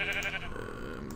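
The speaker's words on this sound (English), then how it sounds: "Sheep." A single wavering sheep bleat from Minecraft sounds close and clear, lasting about a second with no talking over it.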